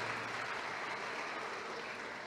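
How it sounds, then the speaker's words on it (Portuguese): An audience at a business awards ceremony in Guanambi claps in a steady, faint, unbroken patter of applause throughout. "Ainda o senhor Rodrigo Leão Brasileiro, uma salva de palmas a este profissional."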